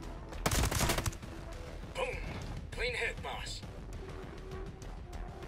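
Rifle fire in the tactical shooter Ghost Recon Breakpoint: a sharp shot burst near the start, then softer thumps and mechanical clacks, with a voice talking over the action.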